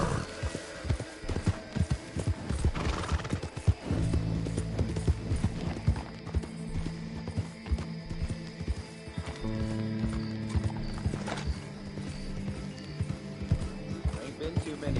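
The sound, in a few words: horses walking and neighing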